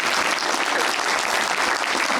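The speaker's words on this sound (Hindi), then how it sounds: "तालियां इसके लिए, तालियां तालियां" A live show audience claps in dense, sustained applause that fills the whole moment evenly, loud and close, with no talk over it.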